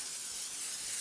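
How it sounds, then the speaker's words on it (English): Vegetable cooking spray is sprayed onto plastic wrap in a kitchen while baguette dough is prepared, producing one steady, soft, close aerosol hiss that lasts the whole moment. "spray it with vegetable spray and then turn the wrap upside down like this"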